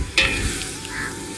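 Masala for a fish dish stirred and frying in a pan, with a sharp scrape of the spoon near the start, then a steady close sizzle and soft stirring alone.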